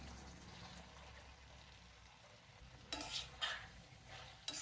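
Pre-fried okra pieces drop into a tomato masala and get stirred, with a quiet low simmer followed by several wet scraping stirs and soft clatters of the spoon.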